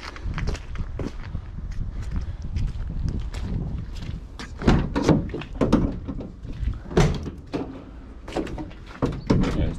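An Iveco ex-police van's door is worked open and shut several times, giving clunks, latch clicks and a sliding rumble, close and fairly loud, with footsteps shuffling around it.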